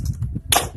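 A firecracker rising into the air and bursting with one sharp, loud crack during a birthday celebration, after a quieter stretch of low rumble.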